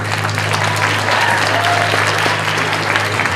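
Steady, loud applause from a theater audience at an illusionist's college performance rolls on for the full stretch with no pause, over a faint low hum and a brief stray voice.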